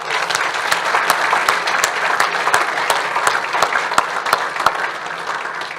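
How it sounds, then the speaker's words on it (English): An audience at an award ceremony gives Bellbridge Primary School a big round of applause, with steady dense clapping throughout and a few sharp individual claps standing out close by. "A huge round of applause to Bellbridge Primary School"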